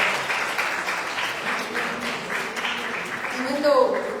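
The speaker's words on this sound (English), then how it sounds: "Let's give a huge round of applause for Nitya Krishna for that" A large audience at an ISKCON lecture gives a sustained round of applause, a continuous moderate clatter of many hands that stays level and swells slightly near the end.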